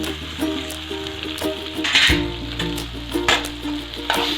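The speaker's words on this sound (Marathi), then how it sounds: "हळद छान परतली त्यामध्ये आता आपण भिजवलेले पोहे टाकून घेणार आहोत" Soaked poha tipped into hot oil with a turmeric tempering, sizzling and frying steadily with soft stirring scrapes and a few sharper bursts of spatter, close and alone with no talk.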